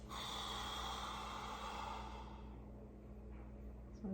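A long, forceful exhale through the nose during a core exercise for low back pain, a steady breathy rush that fades out over a few seconds.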